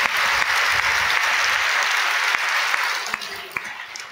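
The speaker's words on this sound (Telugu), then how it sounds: "చప్పట్లు కొట్టి దేవుని మహిమపరచు" A church congregation claps in praise of God during a sermon, a dense, steady wash of applause that holds loud, then thins toward the end with a few sharper individual claps.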